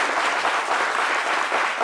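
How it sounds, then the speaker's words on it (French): Dense, steady applause from an audience at a midday show, sustained and fairly loud for the whole short span with no voices. "Ça s'applaudit également"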